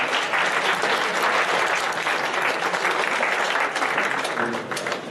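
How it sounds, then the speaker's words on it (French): Audience applause at a forex trading duel event, dense clapping from a room full of people sustained at an even level before easing slightly toward the end. "On les applaudit bien fort."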